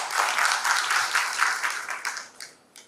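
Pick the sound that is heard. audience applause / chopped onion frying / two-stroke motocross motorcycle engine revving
audience applause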